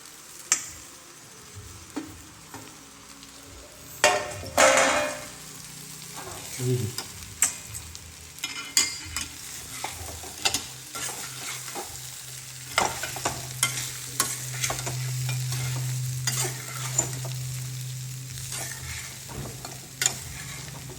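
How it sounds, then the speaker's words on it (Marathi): Potatoes and onion sautéing crisp in a pan, with a continuous oily sizzle broken by repeated scraping and clinking of a spatula stirring the pan, louder bursts around five seconds and a steadier fry toward the end. "कुरकुरीत असं परतून द्यायचं बटाटे छान असे लालसर होऊन द्यायचे सगळं कांदा वगैरे परतून द्यायचा"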